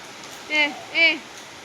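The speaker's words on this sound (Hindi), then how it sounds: "पूरी मतलब खतरनाक बारिश होती, बहुत ही खतरनाक" Heavy rain makes a steady, moderate hiss, with two short vocal sounds rising briefly over it.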